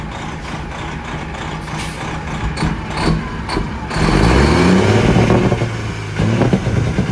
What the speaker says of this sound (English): Walmart truck right there. Same motor too.